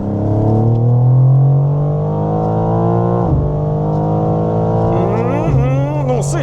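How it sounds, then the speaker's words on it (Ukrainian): A BMW M3 or M4 in M road mode is floored to full throttle, its loud engine note climbing steadily with two brief dips at gear changes, heard close from the cabin. "Натискаємо газ в пол."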